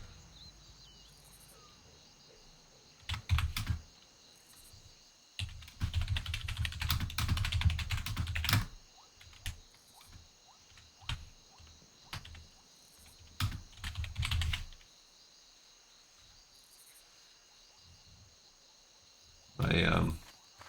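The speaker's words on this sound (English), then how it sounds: "My typing's terrible." Rapid computer keyboard typing comes in several loud bursts of clattering keystrokes with quieter gaps between them. A steady, high insect-like chirp runs in the background throughout.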